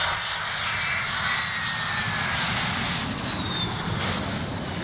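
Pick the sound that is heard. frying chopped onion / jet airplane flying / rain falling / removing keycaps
jet airplane flying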